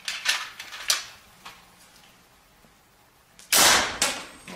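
A sharp, loud shot from an FX Impact MK2 PCP air rifle with Power Plenum cracks out near the end, after a few softer clicks and taps in an otherwise quiet space.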